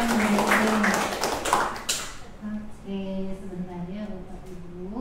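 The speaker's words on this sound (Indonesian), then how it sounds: "Bapak Ibu mungkin boleh minta tepuk tangannya dulu buat Bu Desri ya" An audience at a school gathering at SMKN 1 Kota Bekasi claps for a teacher, a brief burst of applause from a nearby crowd that fades after two seconds into someone speaking.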